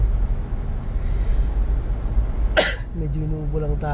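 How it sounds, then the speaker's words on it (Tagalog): A single short cough inside a 2025 Montero 4x2 Black Series during a drive, over a low steady road rumble, followed by a brief murmured voice. "Medyo inuubo lang tayo."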